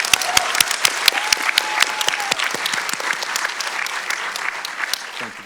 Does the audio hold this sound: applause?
yes